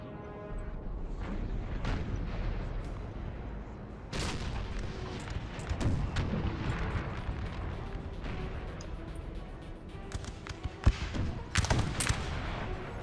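Skirmishers fire muskets in a Napoleon: Total War clan battle, heard as a distant, scattered crackle of shots and dull booms spread irregularly across a low, busy battlefield din.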